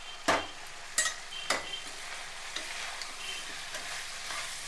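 Chili powder frying in hot oil for an egg curry, with a soft steady sizzle and three sharp clanks of a spoon against the pan near the start, close and alone without speech.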